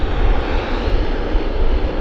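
An airplane taxiing on the Lima taxiway at Vancouver Airport gives a loud, continuous jet engine roar, a dense broadband rumble that holds steady throughout.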